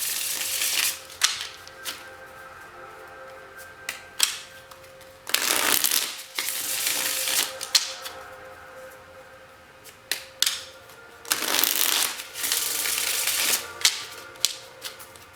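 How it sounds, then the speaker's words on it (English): Tarot cards are shuffled repeatedly in loud riffling bursts, separated by softer handling, taps and shuffling between them. "One more shuffle."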